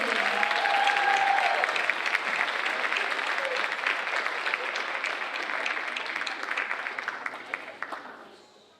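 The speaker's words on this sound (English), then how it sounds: "them one more round of applause" Audience at a school district State of the District event gives a sustained round of applause, dense and loud at first, then thinning and fading out near the end.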